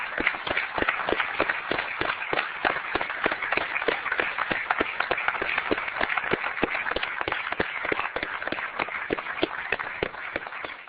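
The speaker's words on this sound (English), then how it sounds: "everybody should applaud you for it" A room of space mission staff bursts into sustained, dense applause, many hands clapping steadily at close range for about eleven seconds with no voices on top.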